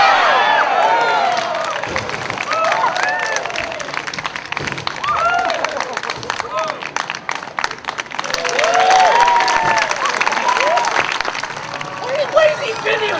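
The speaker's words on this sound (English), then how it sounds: "when the audience give a big cheer for that, it's like, yeah, I kind of worked for that and earned that round of applause" After a juggling act, the watching crowd bursts into applause mixed with whoops and excited cheering voices, surging and fading in waves close by.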